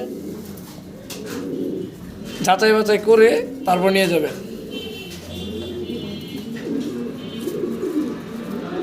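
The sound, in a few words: pigeons cooing in a pigeon shop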